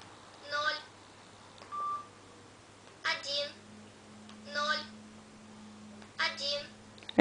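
Telephone keypad tones as a number is dialed, a few short beeps spaced a second or so apart under a child's and an adult's voices, fairly faint.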